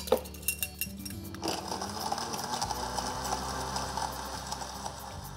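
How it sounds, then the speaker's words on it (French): Ice cubes clink against glass as they drop into a fruit juice drink made with fresh milk and sugar: a few sharp clinks at first, then softer rattling and clatter that continues steadily at moderate volume. "et nos glaçons."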